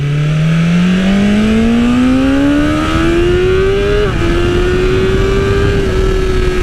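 A 2020 BMW S1000RR M sportbike accelerates hard through the gears, its engine note climbing steadily in pitch, a brief dip at a shift, then rising again; loud and close with constant wind rush.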